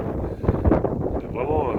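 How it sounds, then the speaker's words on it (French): Strong wind gusting across the microphone beside the water, a steady low roar lasting throughout with no clear breaks, close and fairly loud. "Il y a beaucoup de vent par contre, je ne sais pas si vous allez m'entendre."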